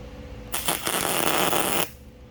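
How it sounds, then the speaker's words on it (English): A hot metal rod hisses and sizzles loudly under a wet rag in a workshop during a hamper repair. The hiss is a steady, close burst lasting just over a second, then cuts off to quiet room noise. "Yeah, that wet rag is helping me cool down that rod. Just hear it sizzling."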